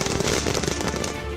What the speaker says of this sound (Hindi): बीजेपी दफ्तर और सीएम हाउस के पास जमकर आतिशबाजी की गई